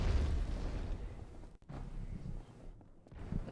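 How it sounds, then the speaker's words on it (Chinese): A bomb goes off in the online shooter game Heroes, a dull boom with a rumbling tail and a few smaller pops, moderately loud beneath a steady game background with no talk. "先扔一个炸弹"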